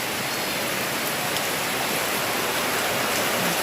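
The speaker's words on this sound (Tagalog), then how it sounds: "May ulan-ulan pa gyud ng palibot." Light rain falls outdoors in a steady, soft hiss that stays even and continuous throughout, with no voices.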